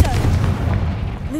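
A Confringo fire-spell blast in the Hogwarts Legacy video game, a sustained loud booming rumble with dense low-end crackle lasting over a second, with a faint voice and a rising tone near the end.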